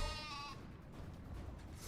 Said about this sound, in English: Oh, just a flock of sheep, nothing to see here